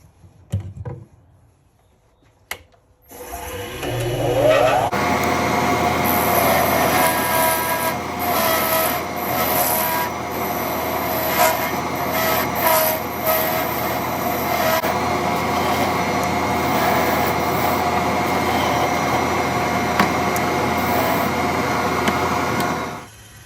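Metal lathe turning down the threads of a bespoke nib pen to diameter, starting up after a few quiet clicks into a loud, steady whirring drone with scraping cutting noise that continues to the end.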